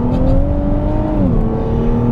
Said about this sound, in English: the engine has a little bit less sonic character, or a lot less, I should say, because it is twin turbocharged